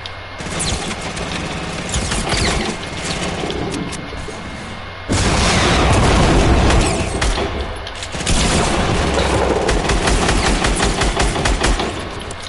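Video game gunfire, loud sustained bursts of rapid automatic shots in several long stretches, with heavy booming blasts between them and no talk.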